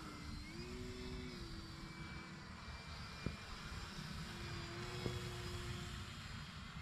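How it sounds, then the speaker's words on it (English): E-flite Cirrus SR22T RC model airplane cruising overhead, a steady buzzing electric motor drone with slowly shifting pitch as it banks around, carried continuously over outdoor wind rumble. "Beautiful plane."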